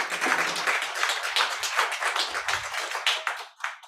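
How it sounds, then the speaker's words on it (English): An audience at a Black History Month concert honoring women string players gives a round of applause, individual claps distinct and fairly close, rhythmic and uneven, thinning out toward the end. "another round of applause, indeed."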